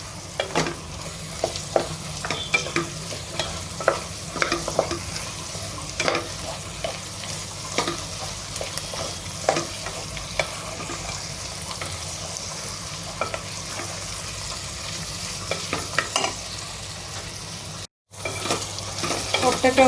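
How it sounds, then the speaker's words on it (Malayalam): Potatoes frying with onions in a pan for a Kerala-style chicken stew, a steady close sizzle with repeated scraping stir strokes throughout and a brief dropout near the end. "ഇനി നമുക്ക് ഈ പൊട്ടറ്റോ ഇതിനകത്തോട്ടൊന്ന് ഫ്രൈ ചെയ്യാം."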